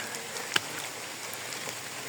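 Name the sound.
light rain falling on a mountain hike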